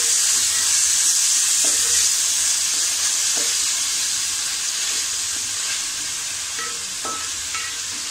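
Prawns for biryani sauté in a hot pan with a continuous bright hiss of sizzling oil, while occasional spatula taps and scrapes mark a slow stirring rhythm throughout.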